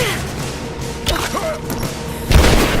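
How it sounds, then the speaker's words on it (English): A grenade blast in the video game Rise of the Tomb Raider, a loud booming thud that hits near the end among scattered combat noise and shouted voices. "Throwing a grenade!"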